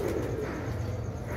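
Pigeons, including a prize-winning racing bird, give a soft low coo at close range, a brief throaty warble that settles into a muffled hum.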